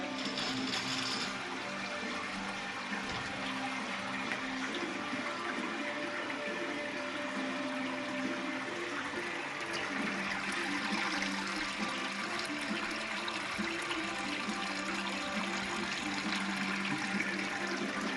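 Steady liquid trickling and running throughout as wort drains from a mash tun through a thick, sticky grain bed, a continuous close pour with no talking.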